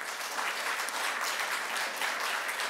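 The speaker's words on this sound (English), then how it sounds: "offering a round of applause for our presenters" A forum audience gives a round of applause for the presenters, a soft, steady wash of many hands clapping together at a distance, continuous and even with no voices over it.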